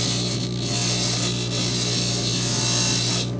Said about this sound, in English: Basically letting the grinding bit do the job